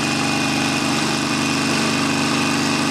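Harley-Davidson XL1200 Forty-Eight V-twin on a road test, a loud continuous engine drone with a rhythmic pulsing throb as the throttle lurches, heard close and alone without talk.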